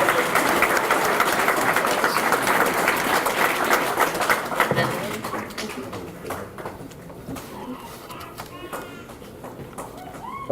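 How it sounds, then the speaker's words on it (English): Banquet audience applauds a scholarship recipient, sustained clapping that is dense and loud at first, then thins and fades toward the end, with some voices mixed in. "Give Raquela a round of applause, please."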